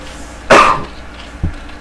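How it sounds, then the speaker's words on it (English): One loud, close cough bursts out, followed by a short throat-clearing sound, from a person playing Starcraft in the evening. "I don't know why I'm coughing so much this evening."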